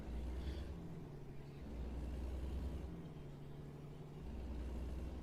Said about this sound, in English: It's just a pickup truck that needs a proper muffler.